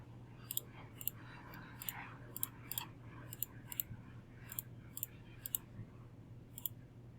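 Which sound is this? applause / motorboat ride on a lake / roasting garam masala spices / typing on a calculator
typing on a calculator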